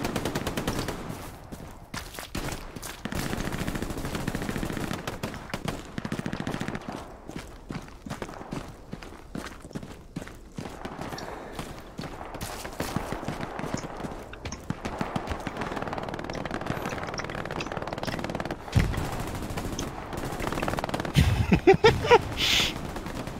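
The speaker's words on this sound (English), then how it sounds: "MG42 tried to mow me down" An MG42 machine gun fires in the Hell Let Loose game, with repeated rapid rattling bursts and scattered shots throughout, growing denser and louder toward the end amid battlefield noise.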